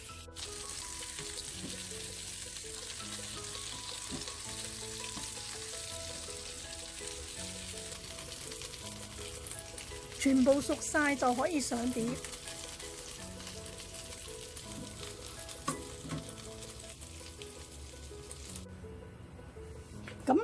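Pork patty with salted fish pan-frying over low heat, giving a steady close sizzle throughout, with a burst of louder spatter and utensil clatter midway; a voice speaks briefly.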